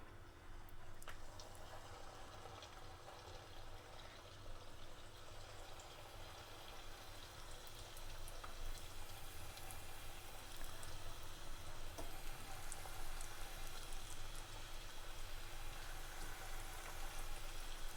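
Steady sizzling and bubbling of Sri Lankan chicken patties deep frying in hot oil, a continuous crackling hiss that grows slightly louder, with no talking.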